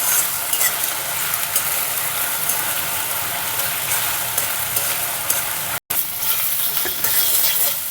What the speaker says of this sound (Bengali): একসঙ্গে ভালো করে ভেজে নেব